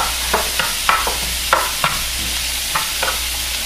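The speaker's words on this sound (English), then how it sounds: "I'm gonna stir this up and I'm gonna cook this down." Sliced mushrooms and onions cooking in a pan, a utensil stirring with repeated scraping strokes roughly every half second over a constant low hum and gentle sizzle, close up.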